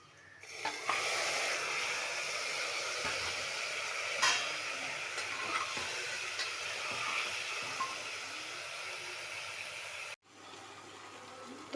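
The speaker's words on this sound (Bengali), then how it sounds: "তারপরে আমি এই মাংসটা দিয়ে দিচ্ছি।" Mutton hisses and sizzles in hot oil with fried onions in a pressure cooker, a continuous close frying noise broken by occasional stirring scrapes.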